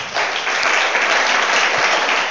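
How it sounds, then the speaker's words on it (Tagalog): A church congregation at a Filipino worship service claps together in steady, dense applause, loud and continuous throughout with no pauses. "Palakpak sa Panginoon."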